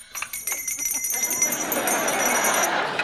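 Hand bells ring in rapid, bright jangling bursts, loud and close, over a busy room in a sitcom, fading into a wash of noise.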